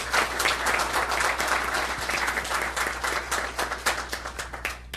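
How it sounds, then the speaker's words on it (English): Sustained applause from an audience at a city council meeting, dense steady clapping throughout with no speech over it, fairly loud and close. "that deserves a round of applause"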